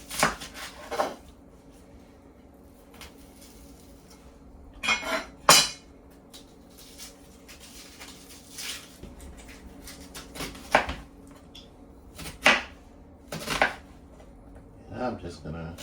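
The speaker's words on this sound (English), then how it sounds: "I'm just gonna go ahead and chop the onion up like this here" A whole onion being chopped with a knife on a cutting board in a home kitchen, producing sharp, irregular knocks with pauses between bursts, fairly close, over a low steady room background.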